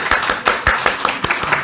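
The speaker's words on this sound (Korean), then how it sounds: "경의의 박수." Congregation at a Sunday morning church service applauding the accompanist, with scattered, uneven claps building in a loose rhythm across a short burst, moderately loud and somewhat roomy, without talk over it.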